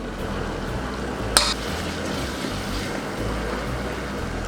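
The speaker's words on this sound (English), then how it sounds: "They all go in at once, and then you stir." A spoon stirring cumin, salt and coriander in a pan for a minced beef sauce, a steady soft scraping and sizzling with one brief sharp clink near the start.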